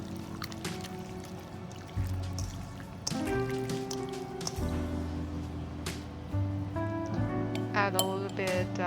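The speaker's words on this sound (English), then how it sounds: "Keep stirring in the same direction." Fish slices being stirred in one direction in a bowl with cornstarch, with soft clinks and wet slapping against the bowl under a low background hum, no talk.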